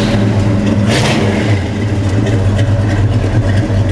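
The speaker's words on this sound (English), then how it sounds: "That's rumble from 1972, Chevrolet 454 style." A 1972 Chevrolet Chevelle SS with a 454 V8 engine roars loudly and steadily, with a deep low rumble and a brief rev swell early on, heard close with no talk over it.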